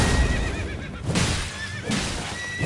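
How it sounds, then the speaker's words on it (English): A horse in the video game Elden Ring gives loud, close whinnies in two wavering bursts separated by a short pause, with a clip-clop of hooves under the calls. "And there goes his horse, guys."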